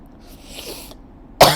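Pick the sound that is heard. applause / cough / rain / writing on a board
cough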